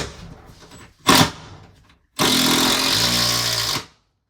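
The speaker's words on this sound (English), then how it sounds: "So now I'm just going to put the screws in where I think the studs are." A power driver sets screws into a workbench at the wall studs, with a brief spin first and then a longer, louder whirring run of about a second and a half that bogs down as the screw seats.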